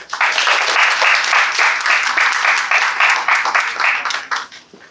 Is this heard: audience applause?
yes